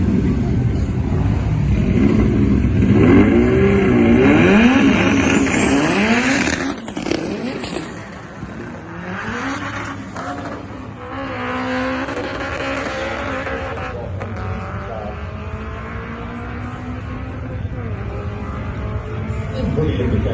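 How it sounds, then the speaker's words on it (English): A motorcycle on a race track accelerating hard for a slight wheelie, its loud close engine note rising and falling as it passes, then fading and building again. "Let's see if we can get a good wheelie shot."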